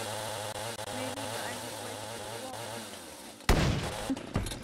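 A chainsaw in a zombie survival video game runs with a buzzing, revving engine drone for several seconds, then cuts out into sharp, loud impact bursts and clatter.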